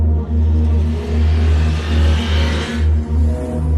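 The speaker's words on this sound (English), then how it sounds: "with a slight vibration in your bones and four-stroke soundtrack following behind" A Husqvarna Svartpilen 250 four-stroke motorcycle engine runs with a loud, steady low rumble and slight pulsing. It rises briefly as if revved before easing back, with no talking.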